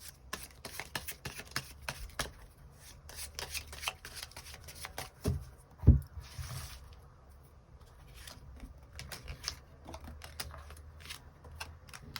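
Tarot cards are shuffled by hand in a long run of quick, soft riffling and flicking, close and fairly quiet, with one sharper slap near the middle and no talking.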